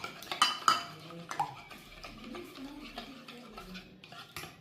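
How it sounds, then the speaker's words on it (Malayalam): Oats soaked in milk are stirred together with egg yolks in a bowl, a spoon clinking and scraping against the sides in irregular close knocks with softer swishing between. "അതൊന്ന് നന്നായിട്ട് മിക്സ് ചെയ്യാം"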